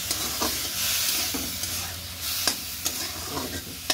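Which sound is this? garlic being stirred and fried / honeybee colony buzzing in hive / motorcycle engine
garlic being stirred and fried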